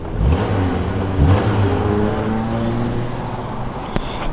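A 2019 Subaru Crosstrek boxer engine idles with a low rumble, then revs up and settles, heard close by with no talking.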